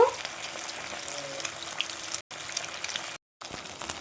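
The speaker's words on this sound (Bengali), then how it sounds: "আমি তিনটে কি চারটে করে ভেজে নেব।" Egg pakoras deep-fry in hot oil over a very low flame, a steady close crackling sizzle with busy fine bubbling that runs continuously, briefly cutting out twice, with no one talking.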